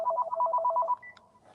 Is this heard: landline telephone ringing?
yes